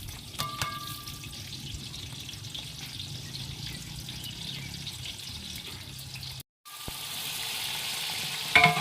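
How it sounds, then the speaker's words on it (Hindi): Onions frying in hot oil in a large pot for a big batch of Muharram niyaz cooking, a steady close sizzle with scattered pops, briefly cutting out before the sizzling returns louder. "ये हमारा ऑयल गर्म हो गया, और ये मैं प्याज डाल रहा हूँ।"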